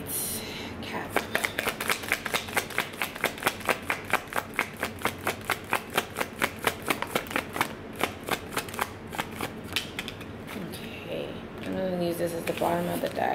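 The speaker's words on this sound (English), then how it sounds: "I just want to make sure I really shuffle." A deck of tarot cards is shuffled by hand in a long, rapid run of crisp riffling slaps at a steady rhythm, close and clear, followed by a brief pause and some soft handling.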